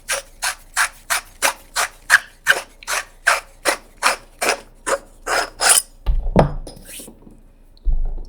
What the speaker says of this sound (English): Take this off, come over here and unscrew our handle.